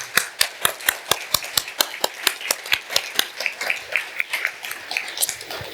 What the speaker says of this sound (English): we'll close out by giving him a round of applause first